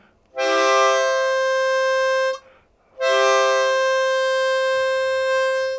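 Two sustained harmonica notes, each clean and steady with a bright reedy tone, separated by a short breath gap, played close and loud.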